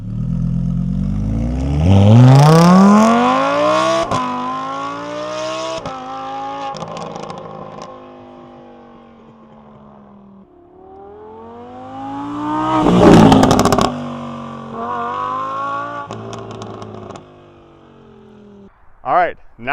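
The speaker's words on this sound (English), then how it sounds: "Now let's listen to the Huracan." A high-revving Lamborghini Huracan engine climbs in pitch and sweeps past, then another loud pass with rapid revving and gear changes, ending with brief clatter.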